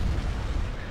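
Turbolaser fire in a Star Wars space battle game, a dense rumbling barrage of heavy blasts that booms continuously through a short burst.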